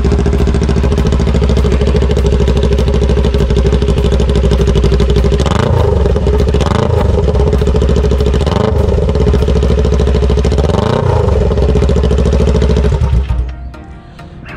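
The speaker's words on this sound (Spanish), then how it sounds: "escuchar la moto sin escape." A Kawasaki Ninja 400 motorcycle engine runs loud and close with no exhaust silencer, a harsh steady drone broken by four quick revving blips before it cuts off near the end.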